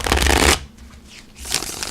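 A Steampunk Tarot card deck being shuffled, giving a loud dense riffle for about half a second, a brief lull, then a second burst of shuffling close to the microphone.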